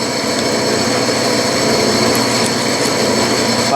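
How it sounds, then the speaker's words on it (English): Steady whine of a metal lathe spinning while a center drill bores into metal stock for a small oscillating steam engine, a continuous close machining drone with faint high squeals and no talking. "There's the center drill."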